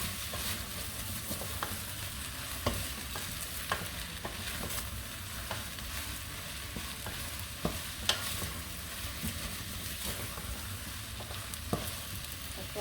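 Okra sautéing in a pan for a gombo sauce, giving a steady broadband sizzle throughout with scattered sharp clicks and scrapes of stirring, close and continuous with no talk.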